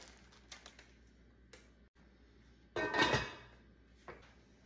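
A lidded Dutch oven holding sourdough set into a home oven, with faint taps and clicks, then a short metallic clatter and scrape of the heavy pot sliding onto the rack, followed by a soft knock.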